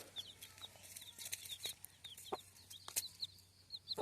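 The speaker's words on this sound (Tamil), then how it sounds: "இதான் என்னோட கோழி" Several chickens in a farmyard cluck in short, scattered bursts, with nearby calls and soft flapping against a steady background hum.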